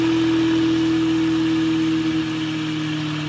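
A magnetic generator spinning at 2800 RPM on open circuit, giving a steady mechanical hum with a strong, constant whine that shifts slightly near the end, close and loud.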